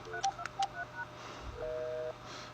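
DTMF dialing tones from a keypad calling a wireless Lucent 8110m analog phone: a quick run of short beeps, then a longer steady tone, clear and close with light room noise.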